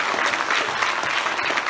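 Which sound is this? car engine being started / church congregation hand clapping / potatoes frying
church congregation hand clapping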